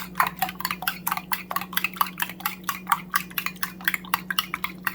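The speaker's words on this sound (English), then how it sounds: "So I'm going to mix it very well, and then I will set it aside." A spoon stirs a cassava mixture in a pot, scraping and knocking in a steady rhythm of close, distinct strokes over a faint background hum.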